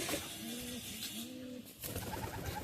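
A domestic pigeon, a Kalanka or Regder type, gives two drawn-out low coos close by, with a breathy rumbling noise underneath and a short pause before a noisier stretch.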